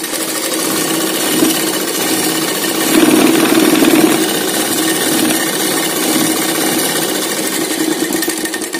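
An electric sewing machine runs steadily while stitching ghagra cloth, a continuous close, buzzing mechanical drone that holds without pause throughout, with no talk over it.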